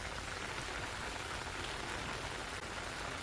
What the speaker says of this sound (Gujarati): ભારે વરસાદ જોવા મળી રહ્યો છે